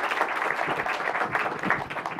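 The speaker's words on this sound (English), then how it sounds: "Big round of applause for Klaus here" Continuous applause from a modest comic convention panel crowd, a dense, even patter of hands that holds steady without pause.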